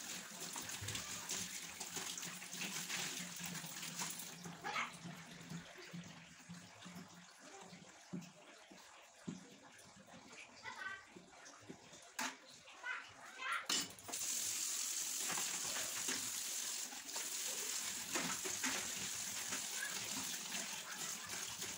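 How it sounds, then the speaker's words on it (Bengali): Tap water runs steadily over fish and meat being washed in a home kitchen sink, a continuous gushing stream with splashes and a louder surge in the second half, no talking. "তারপরে ধুয়ে নিই মাছ মাংসগুলো একটু।"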